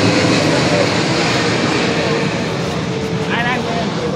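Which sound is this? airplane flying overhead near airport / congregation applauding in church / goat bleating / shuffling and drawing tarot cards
airplane flying overhead near airport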